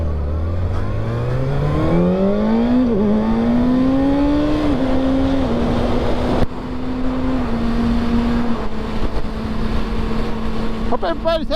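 A Kawasaki 636 motorcycle rides under a bright sky, its engine note climbing steadily through the gears, then holding a strong, loud, continuous drone with wind roar throughout.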